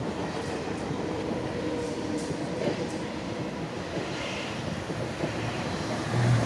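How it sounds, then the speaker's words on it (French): A French TGV high-speed train rushes past trackside in a steady, broad roar that holds loud throughout and swells slightly at the end, with no talk. "On a un TGV."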